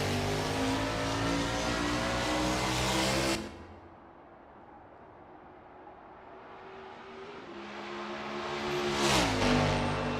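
A 1989 Camaro Z28 IMSA GTO race car in a racing video game roars around the Daytona road course on a practice lap, its loud engine dropping off then climbing back up in pitch as it revs through the gears.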